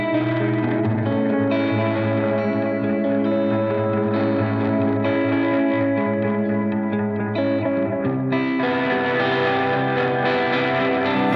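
A guitar signal runs through a PT2399 delay pedal, giving a continuous, thick, smeared wash of repeating echoes with a chorus-like shimmer, loud and sustained throughout, with no talking.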